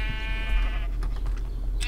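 One Minecraft sheep gives a single drawn-out bleat close up at the start, followed by a few soft clicks and a low steady hum, with no voices.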